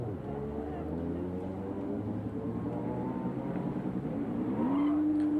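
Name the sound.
IMSA GTP race car engine passing on track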